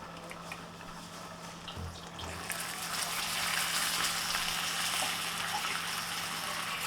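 Fresh cream stirred into melted butter in a pan over a low flame, a soft, steady sizzle and bubbling that grows slightly louder partway through, with faint scraping underneath.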